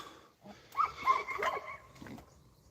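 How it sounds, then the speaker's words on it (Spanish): A small dog barks and yips a few times in a quick, close burst, with whimpering sounds mixed in and no talking. "La que te lía un perro chiquinino."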